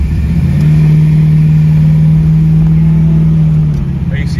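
A 416 cubic-inch stroker LS3 V8 with an aggressive cam runs steadily close by with a deep, choppy cam rumble, loud and sustained, rising slightly near the end.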